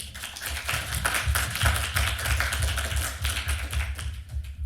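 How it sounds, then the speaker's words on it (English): An audience at a library author showcase applauds, a dense run of many hands clapping that stays fairly loud and steady before slowly thinning toward the end. "Would you join me in giving a round of applause to our library?"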